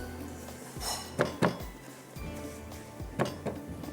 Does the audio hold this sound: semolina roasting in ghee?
yes